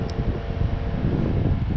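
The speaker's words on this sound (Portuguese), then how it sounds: "Vamos aumentar a velocidade e olha só o vento" An electric fan running at a raised speed setting gives off a steady, close whoosh of rushing air with no voices.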